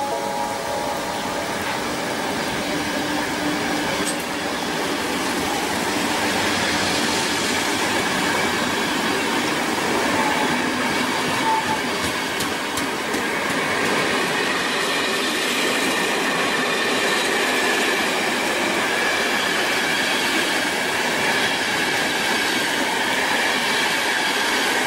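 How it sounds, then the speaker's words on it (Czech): A passenger train departing Rokycany station rumbles steadily along the rails, wheels clattering with occasional faint squeals, continuous and fairly loud with no voices. "Vlak je připraven k odjezdu."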